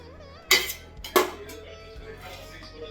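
Rice for chicken biryani being mixed in a pot, two sharp metallic clanks of a spoon against the pot followed by softer scraping, close up, with a low steady hum underneath.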